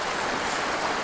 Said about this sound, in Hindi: बहता हुआ पानी,